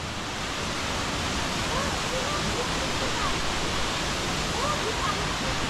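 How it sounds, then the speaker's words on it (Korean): Guryong Falls at Sogeumgang on Odaesan pours in a loud, steady broadband roar of falling water that fills the whole stretch, close and unbroken. "거기가 아니고 여기가 구룡폭포야 여기가"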